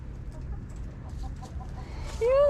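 Faint clucking over a low background hum, ending with a sharper, louder squawk from a chicken close by.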